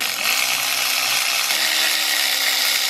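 A power tool whirs steadily up close while removing 12mm bolts from a Subaru WRX intercooler bracket, a loud continuous buzz with a slight change in pitch midway.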